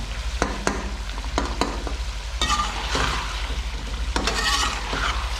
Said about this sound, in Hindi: पानी खुश्क हो रहा है और टमाटरों को मैं मैश कर लेती हूँ।